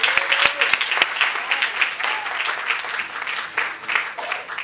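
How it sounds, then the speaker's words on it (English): A church congregation claps hands in praise, a dense burst of applause with some voices and cheers mixed in, fairly close and sustained. "All who receive it, clap your hands and give the Lord a kind of praise."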